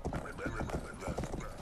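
A horse gallops in the Rustler video game, its hooves clip-clopping loudly and steadily at close range, with a whinny mixed into the dense hoofbeats.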